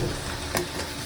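Fish curry sautéing in a pan, a steady close sizzle running through the short moment with one brief louder burst of frying noise near the middle.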